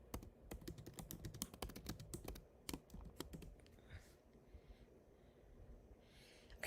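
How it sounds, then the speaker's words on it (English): Rapid keyboard typing with clustered clacks, dense at first, then thinning to sparse taps over a quiet background hum. "Okay, I'm typing."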